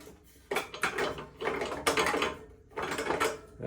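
A ratchet turns a 12mm socket on a bolt of a 1987 Honda GL1200 Goldwing during gas tank removal, close, quiet bursts of rapid clicking in several separate strokes.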